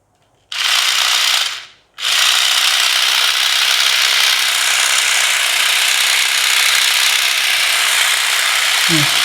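A battery-powered Crush Gear Battle Gear Dragon Blaze toy switches on with a sudden whirring, rattling gear buzz, cuts out for a moment, then starts again and keeps grinding steadily and close.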